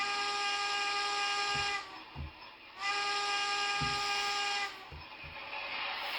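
A small HO scale model steam train whistle sounds twice, each a long, steady, shrill blast, with soft chuffing in the pauses between.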